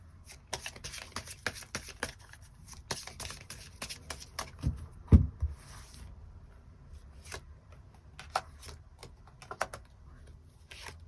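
Tarot cards shuffled and drawn at close range, heard as soft irregular taps, riffles and flicks over a quiet background, with one louder thump near the middle.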